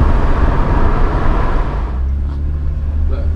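A cheap Ferrari's engine pulls through the gears, a loud continuous drone from inside the car that eases and steadies partway through as the revs settle.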